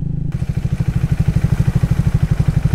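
A motorcycle engine with water-soaked, smoking engine runs loudly and close on a mountain trip, a steady rapid chugging pulse after a short quiet start.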